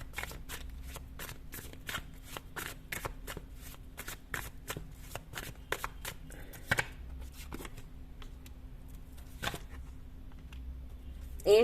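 Tarot cards are shuffled in a rapid run of crisp, close riffles and slaps, dense at first and thinning out toward the end, quiet and without speech.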